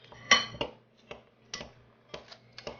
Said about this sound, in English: I don't have a pastry blender, but I do have butter knives, and it works quite well. So you just cut in the butter